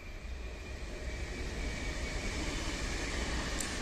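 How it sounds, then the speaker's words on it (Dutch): A train passes near the countryside between Arnhem and Ede in the Netherlands, heard as a continuous broad rumbling roar that swells slightly and holds steady, with no talking. "hier, treintje erachter."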